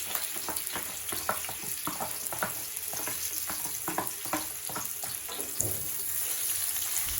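Shallots, garlic, tomato and pete (stink beans) sizzle and fry in reused squid-frying oil, with a steady hiss broken by repeated scraping stirs of a utensil against the pan, close and fairly quiet, with no talking.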